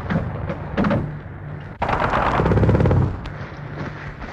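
Gunfire in a 1946 war film as recce squadron jeeps racing for a bridge are shot up, loud cracking bursts and rattling volleys close by with a heavy blast near the middle, then fading.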